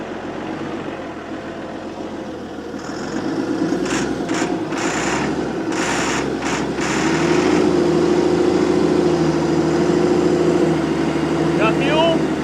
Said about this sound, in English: if we can get it to run for just a little bit off ether, we're not hurting the engine